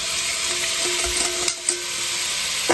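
Flour-coated cubes of beef, seasoned with salt and pepper, brown in hot oil with a dense continuous sizzle and a few soft pan scrapes, close up and without talk.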